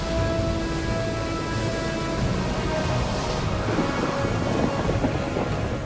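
A tropical cyclone season thunderstorm in Australia rumbles with deep rolling thunder over constant heavy rain, loud and sustained throughout with no speech.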